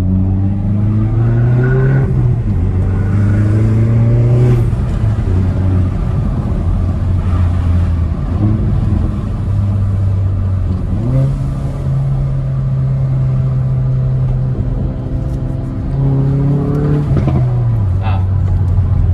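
A 275 hp Hyundai i30N engine pulls through the gears while driving, loud and close, rising in pitch with each gear then dropping at the shifts, while someone talks over it.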